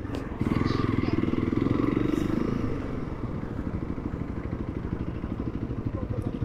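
Motorcycle engines idling and revving in a ferry boarding line, a steady close rumble with a pulsing throb, sounding on its own with no talk over it.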